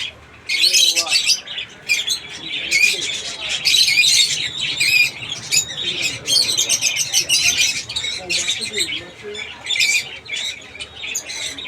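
Parrots and pigeons in a bird seller's collection: a loud, continuous chorus of shrill squawks and rapid chirps, close and overlapping throughout, with a voice speaking underneath.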